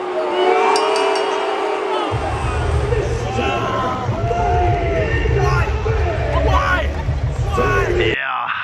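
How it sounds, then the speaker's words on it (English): A large London arena crowd at WWE Money in the Bank 2023 roars and yells continuously, a dense wall of cheering and shouting with a brief shift in tone near the end. "that's me in the London crowd at Money in the Bank 2023 expecting LA Knight to win"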